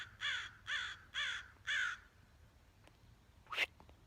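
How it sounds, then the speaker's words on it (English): A crow close by gives four harsh caws in a steady rhythm, then quiet. A brief sharp sound comes near the end, with no talk. "the bird was like, caw, caw, caw"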